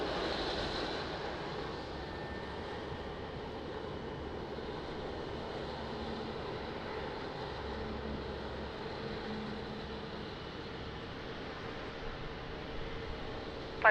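An airliner roars along runway 02 at Lisbon Airport after landing, a steady broad engine rumble and rushing noise heard from a distance, unbroken and with no voices.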